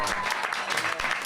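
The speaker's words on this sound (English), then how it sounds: "round of applause for Dave McKinney" Audience applause for a guest at an election night special talk show, dense steady clapping filling the short stretch at close range.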